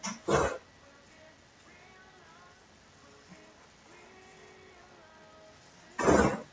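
Dogs bark indoors, with one short, sharp bark at the start and another near the end. Faint whines and whimpers run quietly through the stretch in between.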